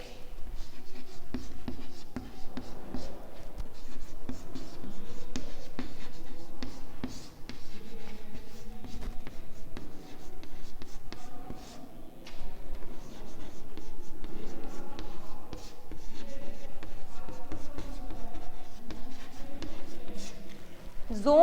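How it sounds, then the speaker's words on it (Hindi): Pencil drawing concentric circles on white paper, a steady scratchy scraping that runs almost continuously with brief pauses, close and fairly loud. "संकेंद्रीय वृत्त इस प्रकार खींचे जाते हैं।"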